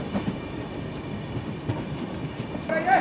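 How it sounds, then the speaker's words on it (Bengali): The Dibrugarh–New Delhi Rajdhani Express pulls into New Cooch Behar station, heard from on board as a steady rumble with rhythmic wheel clicks over rail joints and a brief high squeal near the end. "আমাদের ট্রেন এই মুহূর্তে ঢুকছে নিউ কুচবিহারে।"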